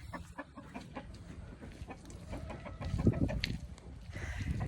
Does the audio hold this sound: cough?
no